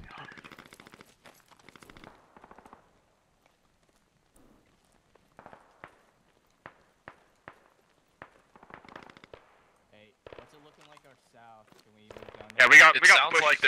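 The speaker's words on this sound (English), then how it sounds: "There's enemy fire coming from in that compound to our east." Gunfire in the military shooter Squad: a few sharp single shots spaced out in the middle, then a loud dense burst of firing at the end, with players talking over radio throughout.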